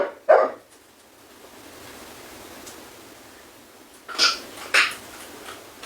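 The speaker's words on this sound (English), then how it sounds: "What is that dog barking?" A dog gives one sharp bark, then after a quiet stretch two more barks in quick succession, somewhat distant and moderately loud against a soft background hiss.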